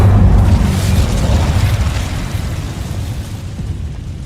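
An Incendio fire spell cast in Hogwarts Legacy, a loud, deep whooshing roar of flame that rumbles strongly at first and then slowly fades into a crackling burn.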